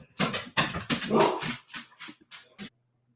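Dogs in a room whimper and yip in a string of close, high whining bursts, some sharp like small barks, tapering off into silence.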